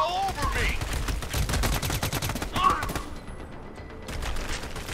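Rapid gunfire from a firefight in the video game Army of Two, set in Iraq, with dense overlapping bursts and single shots at close range, thinning out toward the end.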